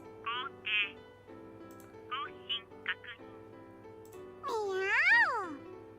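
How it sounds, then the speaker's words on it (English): A cat in the video game You and Me and Her meows, giving several short, rising calls and then a longer, louder drawn-out meow over quiet background music. "At my feet, the cat meows proudly."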